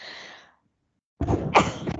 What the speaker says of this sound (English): Excuse me, made me sneeze.